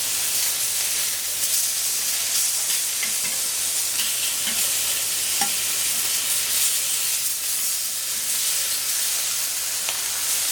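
Thick pork fillet pieces sizzling on a plancha, a loud, continuous broad hiss of frying with faint clicks, close and steady throughout with no talk.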